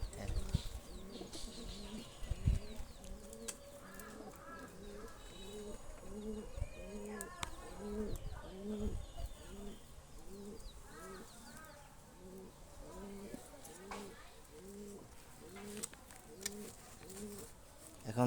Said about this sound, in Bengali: এই যে কবুতর, দেখতে পাচ্ছেন